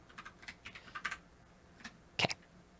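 Clicky taps on a computer keyboard during a web-coding session come in short irregular bursts, with a brief pause and then a louder cluster of keystrokes close by, no talking.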